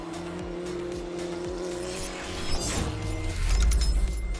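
Race cars at a French streamer racing event roar past with a loud, steady engine drone, and a tire squeal rises toward the end as a car pushes hard through a corner.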